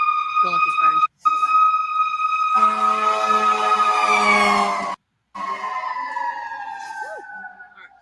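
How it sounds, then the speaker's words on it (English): A fire engine siren wails loud and close, its harmonic tones rising and falling as the truck passes, with a brief gap and then fading slightly toward the end; no one speaks over it. "There's a fire engine coming, so hold on one second"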